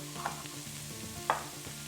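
Halved potatoes dropped into a pan with vegetables while braising lamb shanks, frying with a brief sizzle and a couple of sharp clinks of stirring, close up and without speech.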